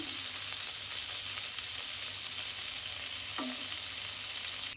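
Chicken pieces fry in a saucepan, a steady close sizzle running throughout with a brief utensil scrape partway, no voices present.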